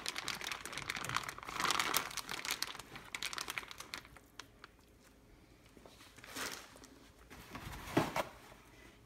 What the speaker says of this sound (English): So we put it on the paper towel.